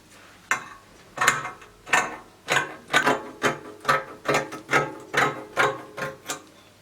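Scissors cut through dress fabric in a series of about a dozen crisp, evenly spaced snips, close and fairly quiet, with no talking.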